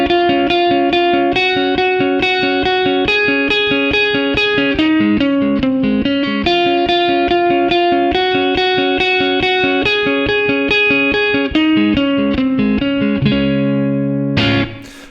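Distorted electric guitar plays a song's chorus in standard tuning, a steady run of bright picked notes with chorus and reverb, continuous and loud, ending with a final struck chord.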